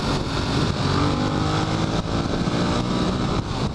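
A 2014 Ducati Monster 1200 motorcycle engine roars steadily during a demo ride, loud and close with heavy wind noise and no speech.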